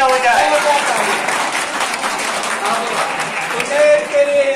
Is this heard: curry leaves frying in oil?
no